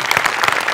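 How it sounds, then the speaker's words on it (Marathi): A short, loud burst of sustained clapping from a comedy show audience, dense and continuous with no voice on top. "त्यामुळे दत्तूसाठी एकदा जोरदार टाळ्या"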